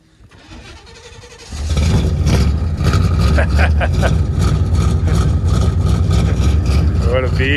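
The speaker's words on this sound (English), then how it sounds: "Cold start." An old 1976 truck engine cold-starts with a short cranking burst, then settles into a loud, steady, rough idle close by that runs to the end.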